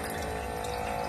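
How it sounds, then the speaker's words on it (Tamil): A USB-charged automatic water dispenser pumps water into a tumbler, a steady close hiss and splash of a thin stream filling the cup with no pauses. "ஸோ இப்போ இது வாட்டர் நல்லா பம்ப் பண்ண போகுது."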